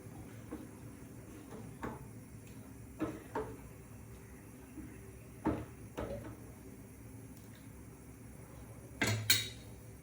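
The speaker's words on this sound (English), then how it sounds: "I'm just washing the mixer ka vessel." Clattering of a steel mixer grinder jar being washed at a kitchen sink, with a few sharp knocks and scrapes of metal on metal against faint running background noise, ending in a louder clank.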